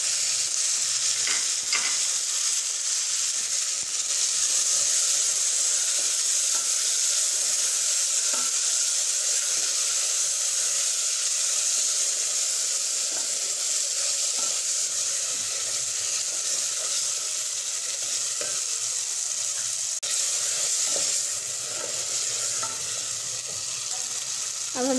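Tomatoes fry in desi ghee with a loud, continuous close sizzle and hiss that holds steady for the whole stretch, with faint stirring beneath it.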